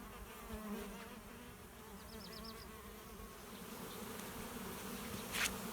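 Honeybees fly around their hives in an orchard on an overcast, slightly rainy day, giving a steady, faint, continuous buzzing drone with no talk.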